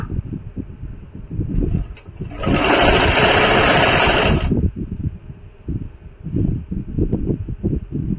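A sewing machine stitches a lined salwar in a short fast burst, whirring steadily for about two seconds between quieter handling and rustling of fabric.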